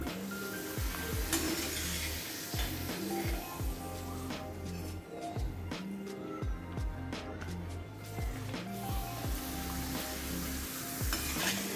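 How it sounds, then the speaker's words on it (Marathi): Papad frying in hot oil in a home kitchen while preparing a festival offering platter, a steady loud sizzle with repeated stirring scrapes and clinks of a utensil against the pan throughout, no talking. "यामध्ये आपण पापड तळून घेऊ."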